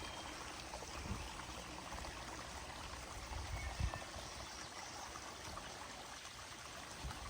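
A garden koi pond waterfall and stream gives off a steady, close, broadband rush of flowing water that holds at an even level throughout, with small shifts in the splashing.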